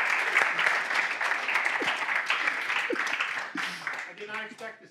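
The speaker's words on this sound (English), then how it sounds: "A round of applause." Audience applause during a C++ programming conference talk at C++ on Sea 2019: a steady, dense wash of clapping from a crowd, with a voice speaking over it before it tapers off near the end.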